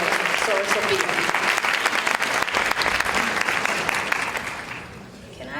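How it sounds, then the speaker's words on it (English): A sorority gathering breaks into sustained applause as a greeting, a dense wash of clapping from many hands with cheering voices mixed in, fading slightly at the end. "would you please help me give her a warm Alpha Kappa Alpha greeting"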